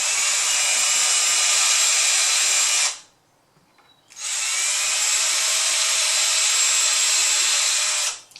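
A power drill with masking tape on the bit whines steadily at high speed drilling pilot holes into wood, stops for about a second, then runs again for several seconds, loud and close.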